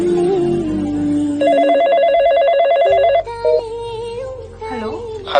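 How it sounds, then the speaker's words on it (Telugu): A telephone ringing indoors, a bright warbling electronic ring lasting a couple of seconds, followed by shorter tones, with voices and music-like sounds around it. "ఫోన్ రింగ్ అవుతుంది"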